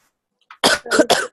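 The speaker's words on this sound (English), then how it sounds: "So excuse my coughing." A short burst of coughing, three harsh coughs close together after a faint breath, close to the microphone with no talking, from someone getting over a cough and cold.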